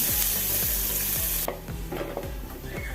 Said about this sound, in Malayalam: ഇനി അരിഞ്ഞ് വെച്ച ഉള്ളി ഇട്ട് കൊടുക്കാം ഉള്ളി ഇട്ട് നല്ലപോലെ ഒന്ന് ഇളക്കി കൊടുത്ത്